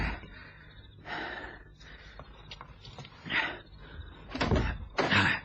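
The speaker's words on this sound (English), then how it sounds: "Knock on the door, in case there's anybody in." Heavy knocks land on a door at night, several loud, uneven thuds spaced a second or two apart, close by, with quiet breathing in between.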